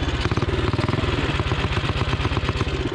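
A Tillotson 212 small engine with short gearing revs on a little throttle. It makes a loud, close, rapid steady chugging with a rough clattery edge and no talk over it.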